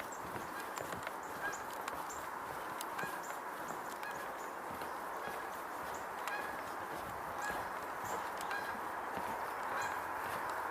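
Canada geese honk repeatedly in a loose, overlapping series of calls at moderate distance, carried over a steady outdoor background hiss with no voices.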